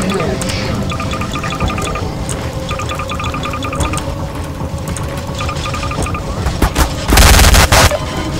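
Automatic gunfire in Garry's Mod rattles in rapid repeated bursts, with a louder, denser burst of fire near the end, under steady game background noise.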